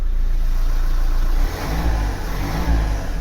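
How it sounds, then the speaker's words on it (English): A Renault Dacia 1.5 dCi diesel engine runs steadily nearby, a continuous low throbbing drone that dips slightly and then swells again briefly as it is revved, with no talking. "It sounds beautiful, the engine."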